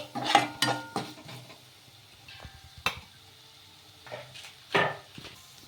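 Pasta stirred with salt in a pan makes several scraping clinks of a utensil against the metal, spaced irregularly, over a faint background sizzle; nobody speaks.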